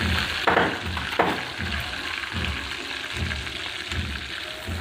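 Green chili pieces fry in a hot pan with oil, a soft, continuous sizzle with a few sharper crackles and occasional stirring scrapes near the start, no one talking.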